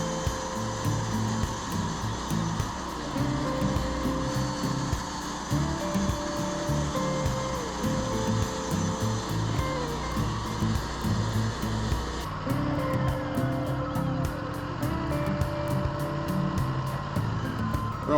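A Wood-Mizer LT40 sawmill cuts Douglas fir in a steady, loud mechanical drone with a shifting engine tone, continuous throughout and briefly changing pitch partway through.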